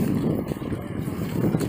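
Makruzz passenger ferry arriving at an island port in the Andamans, a steady low engine and water rumble with wind buffeting, continuous and fairly loud throughout.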